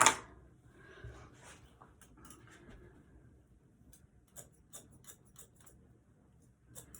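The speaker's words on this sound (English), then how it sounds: "bring in my thinning shears and just use it at the end of where the hair ends" Thinning shears cutting hair during an at-home haircut, heard as a loud opening snip followed by a string of faint, crisp snips and clicks in irregular rhythm, close by and with no talking.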